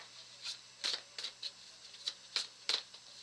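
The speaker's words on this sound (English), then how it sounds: "I think I might shuffle, see what comes out, and then I might pull cards." A deck of cards is shuffled in several quick, crisp riffle bursts, close and fairly quiet, with no voices.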